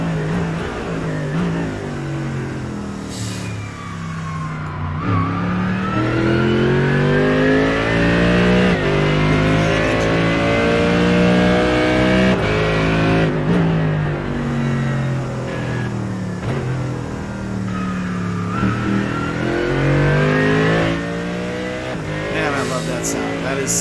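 A Mercedes-AMG GT3 race car at the Hungaroring, heard from inside the cockpit, its engine revving hard through repeated gear changes with rising and falling pitch, loud and close, with faint tire squeal, over nearly twenty-four seconds.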